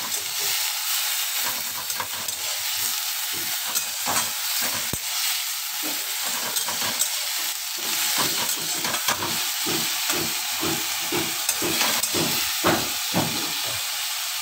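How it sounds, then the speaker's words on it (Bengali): Finely chopped onion frying in hot oil in a pan with a little salt, a loud steady sizzle and hiss broken by repeated rhythmic scrapes of stirring, close and without talk. "পেঁয়াজটা আমরা ভালো করে ভাজা ভাজা করে নেব।"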